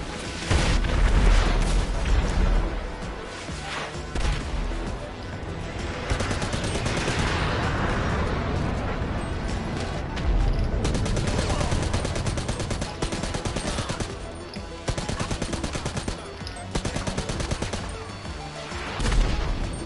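Sustained gunfire from snipers and other weapons in GTA Online, dense bursts of sharp shots, rattling automatic fire and booming impacts continuing loud and close throughout, with occasional brief lulls.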